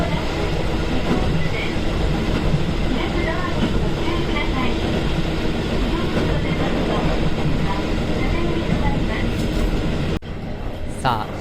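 A diesel railcar on a JR Kyushu local line runs beneath overhead electric wires with a steady, continuous rumble and rail clatter that holds for about ten seconds, then drops slightly quieter near the end.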